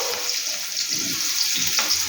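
Onions and green chillies fry in oil with panch phoron and salt in a kadai for a kochu mukhi dal, giving a steady close-up sizzle with soft stirring scrapes throughout and no voices.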